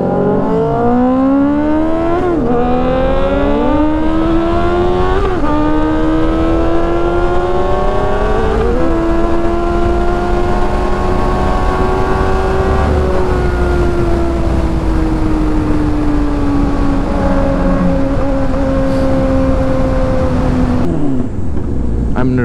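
A naked motorcycle ridden at night through Islamabad, its engine droning steadily throughout with rising and falling revs as the rider shifts gears, loud and close, with wind noise and a brief break near the end.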